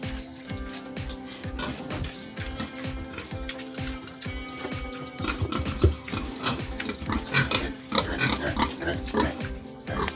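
Pigs grunt and snort on a Filipino farm, close and fairly loud, with dense overlapping calls running the whole time and a busier stretch toward the end, while birds chirp faintly behind them.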